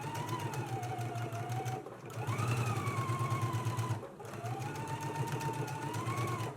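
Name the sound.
sewing machine stitching dress sleeve seams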